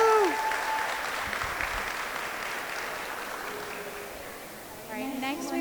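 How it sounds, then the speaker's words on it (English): Guests at a wedding reception applaud the couple, a broad wash of clapping that fades gradually, with brief tonal sounds at the start and a voice coming in near the end. "Can we have another round of applause for the beautiful couple?"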